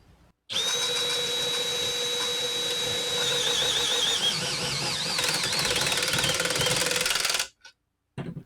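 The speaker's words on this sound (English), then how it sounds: "Milwaukee M12 Fuel in low speed." A Milwaukee M12 Fuel drill/driver runs at low speed with its chuck tied down by thick wire, a loud, steady motor whine for about seven seconds whose pitch starts to waver under load before it cuts off.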